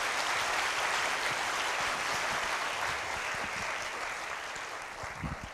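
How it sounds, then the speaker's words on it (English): An audience at an academic lecture on protease control applauds a professor, with steady dense clapping that holds for several seconds and slowly thins toward the end. "Give Professor Huber once again a big applause."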